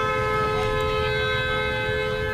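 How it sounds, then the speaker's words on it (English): Car horns sound on a city street during a protest near a police barricade on Fulton Street, with sustained, overlapping honks held steadily through the moment over a low traffic rumble. "there you're hearing some of the cars honking"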